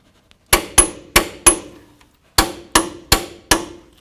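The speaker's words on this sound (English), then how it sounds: "Let's torque this to 184 foot-pounds." Torque wrench tightening brake caliper bracket bolts on a 2007-17 Ford Expedition to 184 foot-pounds, with eight sharp metallic clicks in two groups of four, close and loud against silence.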